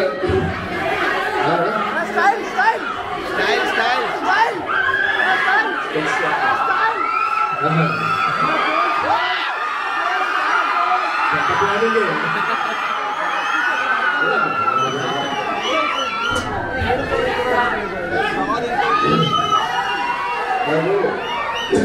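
A college audience at a management college event shouts, cheers and whoops in a loud, continuous crowd roar with bursts of laughter and chatter, voices overlapping throughout.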